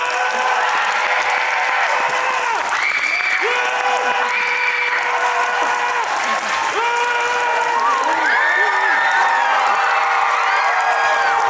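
A film festival theater audience at a screening Q&A for the film Broker applauding loudly and steadily as the director and cast take their seats, with some cheers and voices mixed in.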